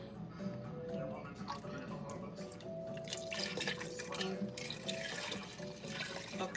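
Tap water runs into a kitchen sink while something is washed during soup cooking, with a steady splashing flow, drips and light clatter, and a person talking over it nearby.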